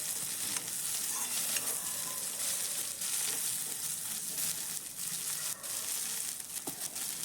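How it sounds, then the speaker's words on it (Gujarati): Cauliflower florets and mixed winter vegetables sauté in hot oil for a mixed veg sabji, giving a steady, close sizzle with occasional scraping stirs throughout. "હવે આપણે જે ફુલેવર હતું એ ફુલેવરને પણ અહીંયા એડ કરી દઈશું અને આવી રીતના ફરીથી મિક્સ કરતા રહીશું"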